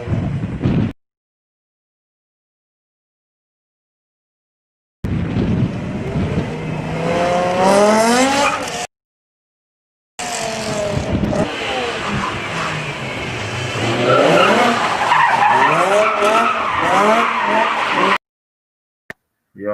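A BMW V10 car revs hard with rising engine sweeps and skidding tire squeal, heard in loud bursts separated by abrupt silent gaps.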